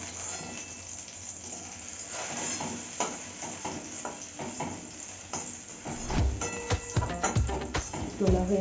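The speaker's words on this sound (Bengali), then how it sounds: "দেখো আমার লাউগুলো কেমন ভাজা হয়ে গেছে" Bottle gourd pieces fry in a pan with a steady, close sizzle for most of the stretch, followed by louder clinks and scrapes of the utensil in the pan near the end.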